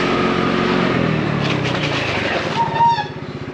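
A Peugeot Django scooter's motor roars and revs at speed, its pitch climbing and then shifting, with rushing road noise and a brief high squeal near the end as the brakes bite.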